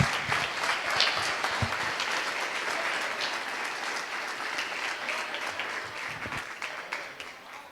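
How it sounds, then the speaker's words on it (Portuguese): A standing church congregation bursts into loud, continuous applause during a sermon, a dense wash of clapping that stays strong from start to finish without talk. "Se é para o Senhor Jesus, aplauda mais alto aí"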